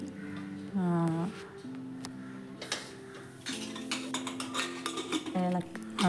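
A spoon scraping and clinking against a pressure cooker pot while Kerala-style chickpea curry is stirred, with intermittent metallic knocks and scrapes under a voice talking.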